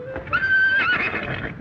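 A horse whinnies once, a high wavering neigh rising and falling, close and clear with a faint rustle underneath.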